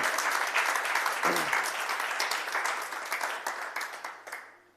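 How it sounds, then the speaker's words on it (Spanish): A church congregation gives loud, sustained applause for Jesus during a Spanish-language sermon, a dense wash of clapping that carries on steadily before thinning and fading out at the end. "Denle un fuerte aplauso al Señor Jesús."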